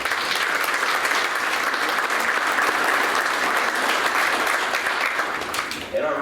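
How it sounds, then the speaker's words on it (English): Dense, steady audience applause at a sports hall of fame luncheon and induction ceremony, loud and continuous throughout before thinning slightly at the very end. "we can give you a round of applause"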